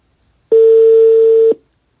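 A single steady electronic telephone tone sounds for about a second, loud and clean, then cuts off, leaving silence.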